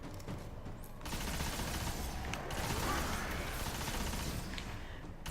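The Necrochasm exotic auto rifle in the Destiny video game fires in sustained rapid bursts, a dense continuous rattle of shots that is moderately loud with brief gaps.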